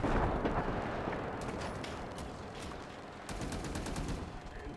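Mortar fire and heavy machine gun bursts in a war video game battle, a dense distant rumble of explosions with sharp rapid gunfire cracks scattered through, moderately faint and without speech.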